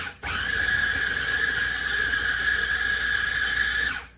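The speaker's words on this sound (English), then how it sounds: "So I'm going to go ahead and just unhook this chopper." Electric food chopper running steadily for about four seconds, a loud sustained motor whine with a high squealing tone, starting and stopping abruptly, no talking.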